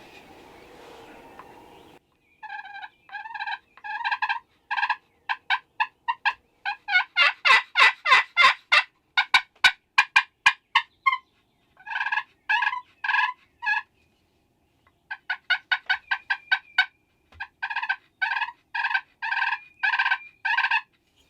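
A wild turkey gobbles during a spring hunt, loud repeated rattling bursts in quick series with short gaps, carrying clearly over a quiet background.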